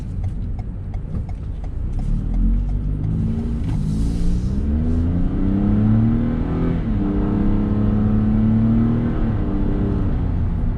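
A 2020 Toyota Yaris with a 1.5 litre 3-cylinder engine accelerates steadily, its engine note climbing through gears in a continuous loud in-cabin drone with rising pitch sweeps and no talk.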